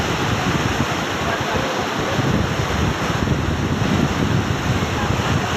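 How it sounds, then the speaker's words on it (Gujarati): Floodwater rushes through the opened gates of the Mukeshwar dam in a constant, loud, roaring wash with wind buffeting the microphone. "મિત્રો કેટલો અવાજ કરે છે પાણી।"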